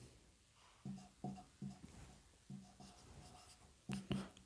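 Chalk or marker writing on a board during a classroom lecture on rocks and minerals: a series of short, distinct scratchy strokes in uneven rhythm, close and fairly quiet, with a brief louder burst near the end.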